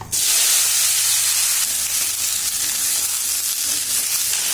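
Malabar spinach fruit hits hot oil seasoned with five-spice, setting off a sudden loud burst of sizzling that settles into a steady, close, hissing fry with no talk.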